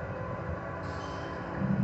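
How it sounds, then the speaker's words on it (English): A Union Pacific intermodal stack train rolls past at a distance, a low steady rumble of wheels and cars with faint rail noise and no voices. "And we got a UP stack train."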